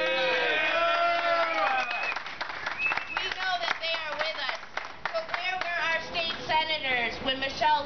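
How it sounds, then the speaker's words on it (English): Crowd at a political rally clapping for politicians, with cheering and shouting voices mixed in over the hands; loud and busy, the clapping rising and falling beneath the crowd noise. "Let's give them a big round of applause."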